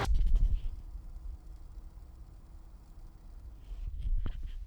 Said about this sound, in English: Let's listen to that power supply. That's where most of the fan noise is from.